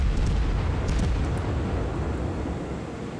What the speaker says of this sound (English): that torpedo hit cost him very dearly